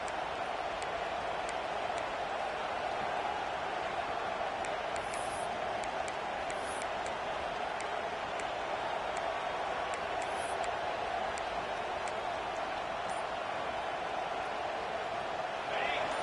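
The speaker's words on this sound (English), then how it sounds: "This crowd bringing the energy and noise early" Steady video game stadium crowd roar in College Football 26 fills the whole stretch, a constant dense wash of voices and noise with faint whistles and cheers poking through.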